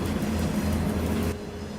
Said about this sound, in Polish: Pociąg widmo, który zjeżdżał na mnie tyłem. Widziałem wagony jakieś, węglarki.